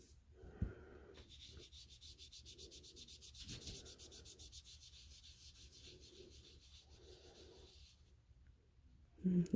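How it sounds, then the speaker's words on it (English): A sponge rubbed onto a paper card in short, soft scrubbing strokes, quiet and close, with brief pauses between passes. "Looks like I'm rubbing some of my sponge off."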